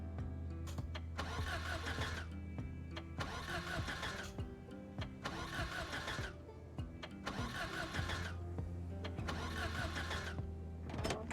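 A car engine in the Project Zomboid video game cranks repeatedly without catching, its starter whirring in five or six even bursts separated by short pauses, loud and steady with no talk.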